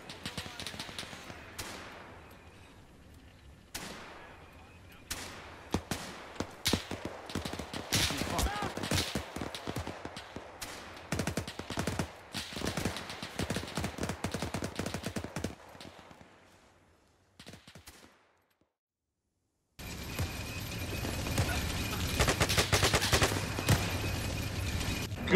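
Bursts of WW2-era gunfire in a winter war combat video game, rapid cracks and clattering volleys of varying loudness over about fifteen seconds, then a brief lull before a dense, steady roar of action; players talk over it.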